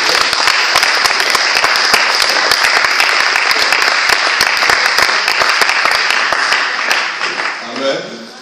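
Sunday church congregation breaking into loud, dense applause and acclamations, sustained clapping with shouts that tapers off near the end as a voice begins speaking.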